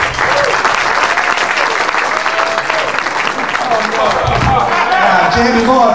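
Comedy club audience applauding comedian Jamie Morgan at the end of his set, sustained loud clapping and cheering throughout with some voices mixed in.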